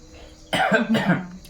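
Two harsh coughs from a person indoors, close and loud, coming in quick succession after a brief quiet moment.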